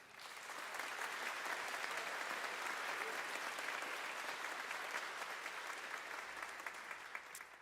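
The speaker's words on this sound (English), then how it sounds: "So please give the band one more round of applause for me." Sustained audience applause for a U.S. Navy jazz band swells in and holds steady, a dense roar of many hands clapping at moderate distance, tapering slightly at the end.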